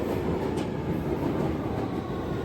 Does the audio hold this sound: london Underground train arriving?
yes